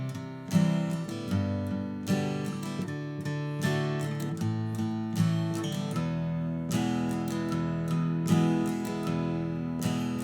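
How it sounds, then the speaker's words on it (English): A guitar plays a strumming pattern: a steady rhythm of bass notes and full down-up strums, with lighter filler strums tucked between beats, played close and clear with no talking. "using these light sort of filler strums just after the 2 count"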